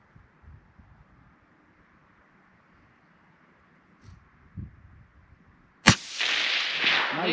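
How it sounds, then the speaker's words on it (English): A single precision rifle shot fired at a small 3/4-inch circle target during an outdoor shooting game: faint wind and low rumble, then one sharp, loud close crack near the end, followed by a sustained broadband roar and echo. "I'm gonna shoot at that one."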